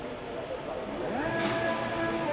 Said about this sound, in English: I can hear an engine.